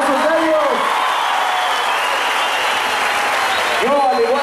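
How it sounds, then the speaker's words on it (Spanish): A rodeo crowd at the La Candelaria jaripeo in San Juan del Estado, Oaxaca, applauds a bull rider with dense, sustained clapping, while an announcer talks over a loudspeaker at the start and end. "quiero pedirle que le echen todo el aplauso a este muchacho"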